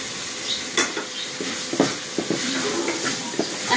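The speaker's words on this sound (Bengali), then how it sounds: "মশলার লগে চিংড়ি মাছগুলো সুন্দর করে কষাই লইতেছি" Shrimp frying with spice paste in a pan, a steady sizzle with repeated scraping stir strokes, close and fairly loud, with no talking.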